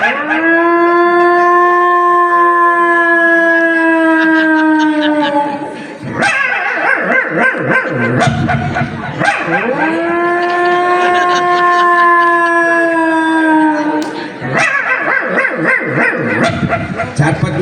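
A human voice imitates a dog howling at night, producing three long, loud, wavering howls up close, each rising and trailing off, separated by short breaths and rough vocal noise.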